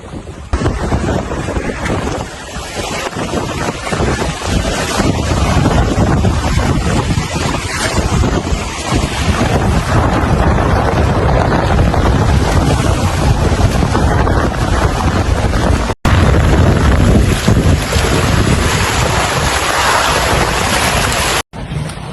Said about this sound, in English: Wind strengthened maybe 25 knots now, gusting 30. And with that, the sea's picked up.